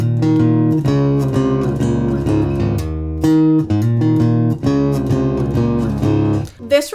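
Bass guitar plays a post-chorus riff, a busy run of plucked low notes with little frills, steady and close for the whole stretch with a brief pause near the end.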